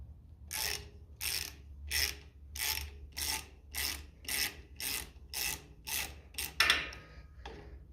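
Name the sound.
socket ratchet wrench tightening nuts on a Ferguson FE35 tractor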